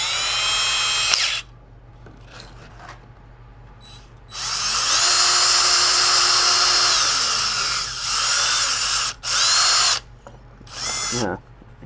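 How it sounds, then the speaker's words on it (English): Power drill with a tapered countersink bit pre-drilling a screw hole, heard in several bursts: a long high whine that rises and falls in pitch, then shorter spurts, with quiet gaps and a steady low hum between. "So sometimes when you pre-drill, you might even use a special bit that has that matching taper."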